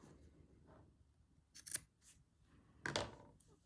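Scissors snip off the edge of a paper junk journal page, two quick crisp cuts close by against a quiet room with faint rustling.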